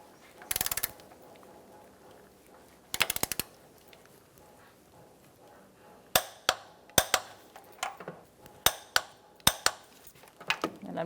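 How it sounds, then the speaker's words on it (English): Sharp metallic ratchet clicks from a torque wrench tightening engine mount nuts to 80 foot-pounds on a 2004-2009 Mazda 3 2.3L, with a few isolated bursts and then a quick run of close, evenly spaced clicks. "Now we can torque our nuts to 80 foot-pounds as well."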